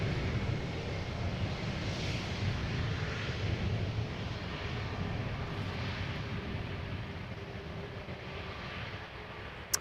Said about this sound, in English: EasyJet A320neo, if I recall correctly, arriving from Birmingham